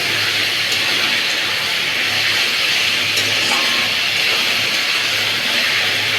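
Cumin and chilli, poured in with ginger and garlic, sizzle loudly and steadily in a hot pan as they are stirred, a continuous bright hiss with faint clinks.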